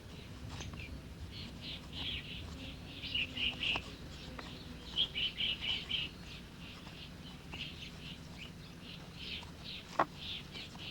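A Galápagos finch chirps in short high bursts in the wild while foraging with a twig, brief tweets repeating in clusters over a low rumbling background, with a single sharp tap near the end.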